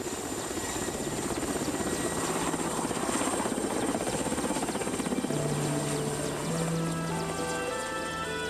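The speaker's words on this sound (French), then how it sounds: "L'hélicoptère met le cap sur le lac Kouril" A helicopter flying over Kamchatka toward Kurile Lake, with steady, rapid rotor chop and a whining engine, continuous throughout at moderate distance.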